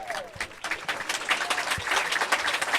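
Spectators at a pro mixed doubles pickleball gold-medal match applaud during a timeout, with a dense patter of clapping that builds and stays steady, and voices cheering beneath it.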